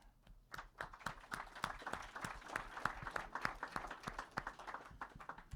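An audience at an academic session breaks into steady applause, with many hands clapping together in a moderately loud, sustained burst.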